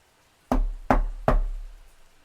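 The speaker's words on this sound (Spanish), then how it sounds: "3 golpes secos se escucharon en la puerta de madera carcomida" Three dry knocks land on a worm-eaten wooden door, evenly spaced, sharp and close, each trailing off into near silence.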